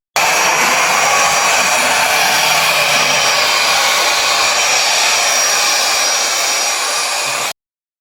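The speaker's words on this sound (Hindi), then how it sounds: "मैं वैक्यूम से क्लीन करूंगी क्योंकि वहां तक मेरा हाथ नहीं पहुंच पा रहा है" A vacuum cleaner runs in a kitchen during Diwali deep cleaning, giving a loud, steady, broadband whoosh that lasts about seven seconds and then cuts off abruptly, with no talking.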